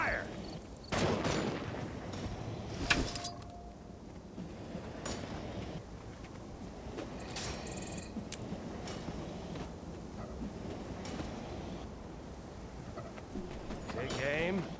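Musket volley fire in the Guild Wars 2 video game during a shield-blocking drill, several sharp cracks scattered across the scene over a busy background of battle ambience and distant birdlike chirps.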